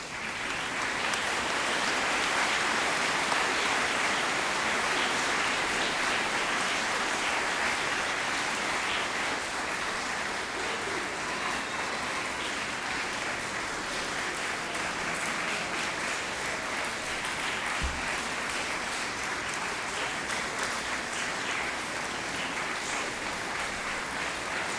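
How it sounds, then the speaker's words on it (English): Sustained applause fills a hall at a spring choral concert as the audience honors choir members who earned their letters, dense steady clapping holding for about twenty-five seconds with no break or voices. "Please give them a round of applause."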